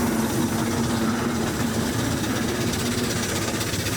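A miniature steam traction engine runs at a country steam fair, giving a continuous close, even chuffing and mechanical rumble with a steady hum, no voices.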